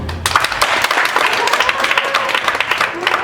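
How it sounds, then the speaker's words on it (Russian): A live audience at a Science Slam talk in Yakutsk breaks into loud, steady applause, dense clapping filling the whole stretch with a few brief voices mixed in. "вы хлопайте, аплодируйте, либо что-нибудь делайте, чтобы мы поняли, что вы раньше в них верили"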